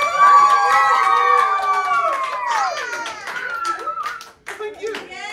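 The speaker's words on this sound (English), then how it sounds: "So can you help me congratulate with a big cheer and a big round of applause" Employee-of-the-month celebration crowd clapping and cheering steadily for about five seconds, with excited voices and whoops mixed in, dipping briefly near the end before resuming.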